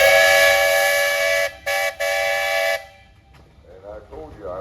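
A 16-horsepower 1913 Port Huron steam traction engine blows its whistle at a Michigan steam and threshing show parade, one long loud blast broken by two brief gaps, then cut off and followed by faint voices.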